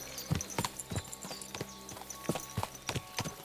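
Horse hooves clip-clop in the video game Kingdom Come: Deliverance II, an even walking rhythm of hollow knocks, fairly quiet and without speech.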